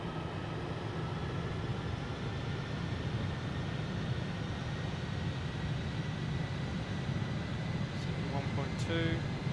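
Boeing 747-200 jet engines roar steadily in a flight simulator during takeoff thrust, a loud continuous rumble and whine with a few faint beeps near the end.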